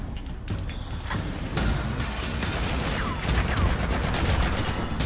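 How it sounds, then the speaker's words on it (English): Heavy gunfire fills a combat scene in the video game Haze, with dense, continuous bursts of automatic fire and sharp impacts at loud, close range and no pauses. "Okay, pretty heavy fire, two troopers."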